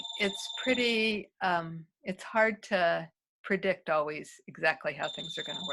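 A phone rings with a steady electronic tone at the start and again near the end, sounding beneath continuous conversation in a room during an artist talk.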